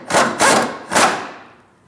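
Three quick metallic ratcheting bursts while snugging a fuel tank strap bolt under a Chevrolet Malibu, close and fairly loud, the last one trailing off into silence.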